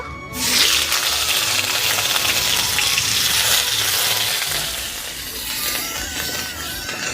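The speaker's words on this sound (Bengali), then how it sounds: "পেঁয়াজটা ভাজা ভাজা হয়ে গেছে" Onion paste frying in mustard oil with dried red chilli and black cumin, a loud, dense, rushing sizzle that kicks in abruptly and stays strong, easing slightly near the end.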